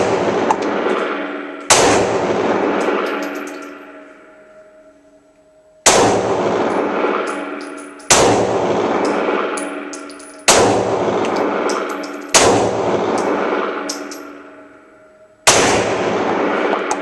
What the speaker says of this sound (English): this is 2 rounds of each out of the Glock 19